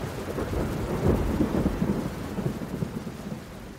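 Heavy rain pours steadily while deep thunder rumbles and rolls underneath, a loud, dense continuous wash of storm noise with no voices.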